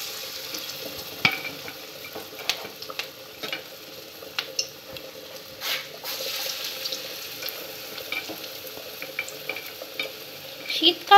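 Batter fritters (bora) dropped into hot oil, crackling and sizzling at moderate volume, with scattered splashy bursts and small clinks throughout and no speech.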